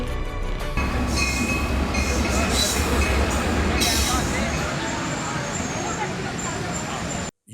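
A train pulling into a railway station, a steady loud rumble of rolling stock with rail noise and faint squeal, continuous for about seven seconds before cutting off abruptly; speech-like sounds are mixed in.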